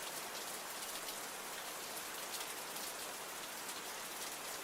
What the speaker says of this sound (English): Oh, this is the rain sounds.